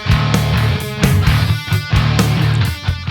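Distorted electric guitar riff in a heavy style built on tritones, played into an iPad Pro in a tattoo studio; loud, chugging and rhythmic, with repeated phrases and no talking.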